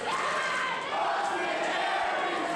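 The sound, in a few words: wrestling crowd cheering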